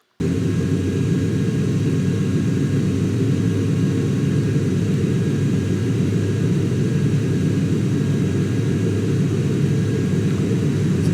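A simulated airliner's engines roar at takeoff power in Microsoft Flight Simulator, a loud, steady low rumble that holds without a break.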